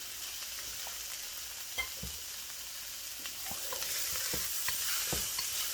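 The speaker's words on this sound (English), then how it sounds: "Now they've softened up a little bit, I'll add some red sweet pepper." Red sweet pepper sizzles and fries in a pan for a chicken biryani, with a steady crackle and a few stirring scrapes and taps close up, and no talking.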